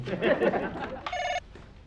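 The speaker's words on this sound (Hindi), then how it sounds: "अच्छा फोन है," A voice talks, then a short burst of electronic telephone ringing sounds clearly for a moment before stopping.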